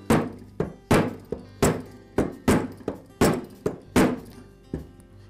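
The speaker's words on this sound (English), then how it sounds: "I'll give it a couple of taps with the rubber shop mallet" Rubber shop mallet tapping a part onto a string trimmer engine during an oil seal repair: about a dozen dull, close thunks in a fairly even rhythm, each decaying quickly, with no talk.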